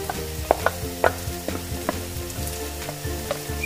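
Tomatoes go into onion and garlic sautéing in a pan for beef mechado, a steady close sizzle of frying broken by several sharp spoon-stirring clicks and scrapes.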